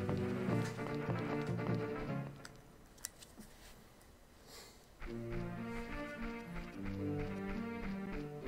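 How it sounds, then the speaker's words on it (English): Horse hooves clip-clop in a Zelda video game over steady game music, the rhythmic steps fading briefly in the middle before the music and hoofbeats resume strongly. "Good horse."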